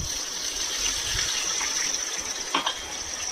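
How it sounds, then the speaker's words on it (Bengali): Hot water poured into a pan of chicken curry in white gravy, a steady soft gush running throughout with a faint clink near the end. "এবারে এটাতে দেব গরম জল"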